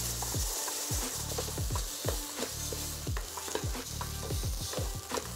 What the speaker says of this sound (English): we're gonna cook out the acidity in the tomato paste first.